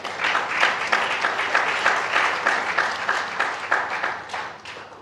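Conference audience applauding together, a steady dense wash of many hands clapping that swells and fades slightly over several seconds with no talk on top.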